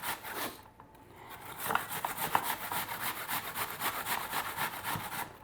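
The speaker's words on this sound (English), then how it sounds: "So we're going to take this grater and I'm going to grate 3 apples." Three apples rubbed against the coarse, bigger side of a kitchen grater, giving a steady run of rhythmic rasping strokes, close and moderately loud, with no talking.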